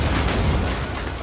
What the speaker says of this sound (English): boom, huge explosion, all the windows shattered out